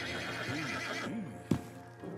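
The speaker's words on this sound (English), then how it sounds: "Marston, you're gonna tether him up to Javier's horse." A horse in the video game Red Dead Redemption 2 gives two clear, rising-and-falling whinnies close by, followed by a sharp thud.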